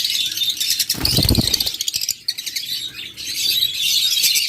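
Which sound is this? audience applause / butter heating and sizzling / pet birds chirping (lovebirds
pet birds chirping (lovebirds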